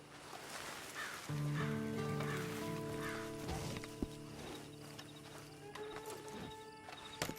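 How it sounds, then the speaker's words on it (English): Horse hooves clip-clop at a walk in the video game Red Dead Redemption 2 Online, soft and fairly distant beneath a brief tonal voice-like sound and ambient background. "And you better get on this horse."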